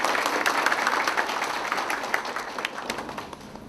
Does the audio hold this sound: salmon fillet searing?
no